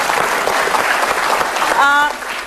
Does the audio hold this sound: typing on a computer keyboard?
no